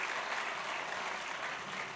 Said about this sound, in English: So, we can give her warm applause, I think, because that's a tough job.